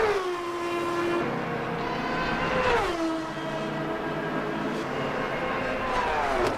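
A hypercar engine in the racing game Le Mans Ultimate howls steadily at high revs, its pitch dropping through gear changes and climbing again, loud and close.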